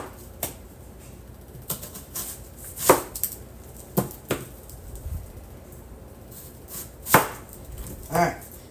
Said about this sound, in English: I just want some bigger pieces of onion. So I'm going to half it and then quarter it.